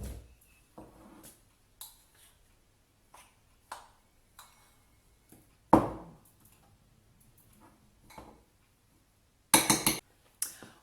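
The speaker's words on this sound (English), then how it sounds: "I'll just mix that around in the little bowl." Orange juice being stirred into a chocolate protein ball mixture in a small bowl, heard as a spoon clinking and tapping against the bowl in scattered separate knocks with quiet gaps between them, one bright cluster of clinks near the end.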